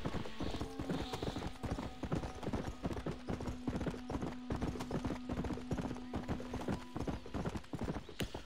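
Horse hooves clip-clopping steadily at riding pace in the Western video game Red Dead Redemption, close and continuous for the whole stretch, with a brief whinny-like tone and a faint voice underneath.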